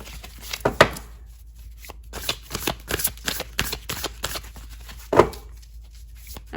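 Tarot cards are shuffled by hand in a run of quick papery riffles and taps, close and crisp, with a louder flurry near the end and no speech.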